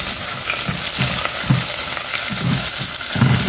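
Sliced big onion, two dried red chillies, mint and curry leaves fry in hot oil for a mutton kulambu: a loud, dense, close sizzle with dull thumps of a spoon turning the pan at an irregular pace. No speech.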